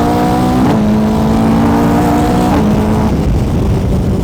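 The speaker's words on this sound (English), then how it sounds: "It's got a sequential shift, so I don't have to use the clutch on upshifts." A 500-horsepower sports car with a sequential gearbox accelerates hard on a track, its engine note loud and close, climbing in pitch through successive upshifts with brief dips between gears.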